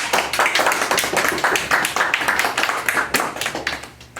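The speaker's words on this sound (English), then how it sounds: "Just give him a warm, applause." Board members at a pharmaceutical company meeting applauding the new owner: a small group clapping closely and steadily for about four seconds, with a few voices underneath.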